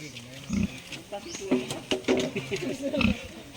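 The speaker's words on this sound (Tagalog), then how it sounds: "Ayan, pangatlong baboy po mga ka-farmers." Pigs being weighed and sold on a farm grunt and squeal in several short, loud bursts close by, while people talk over and between them.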